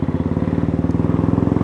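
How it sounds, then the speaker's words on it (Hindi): A Royal Enfield motorcycle on the road on a ride from Mumbai to Lonavla, heard up close from the bike. The engine gives a loud, steady, rapid thumping beat with no talking. "और अब मैं बैठा हूँ मेलेनी के पीछे एनफील्ड पे।"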